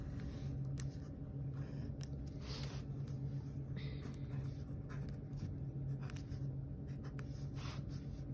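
Pen scratching on paper while a graph for a math homework problem is sketched, steady short strokes over several seconds, close and soft against a faint hum.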